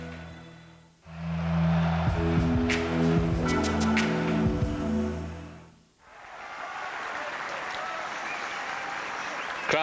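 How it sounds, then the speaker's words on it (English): A tennis crowd at Roland Garros during the French Open claps and cheers, with sustained droning calls in the middle, a brief lull, then broad applause again. Faint commentary runs underneath. "Crowd trying to get Stefan going"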